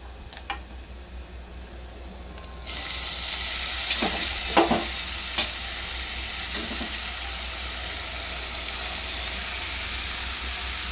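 Spinach greens hit a pan of oil with browned onions and start frying: a steady, loud broadband sizzle swells after a few seconds and holds, with a few brief stirring scrapes in the first half.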